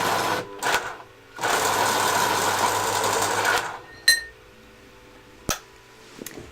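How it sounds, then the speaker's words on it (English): A pencil being sharpened in a sharpener while preparing to draw a pastel rose. A steady grinding whir lasts about two seconds, followed by a few faint clicks and taps. "And then I need to sharpen this real quick."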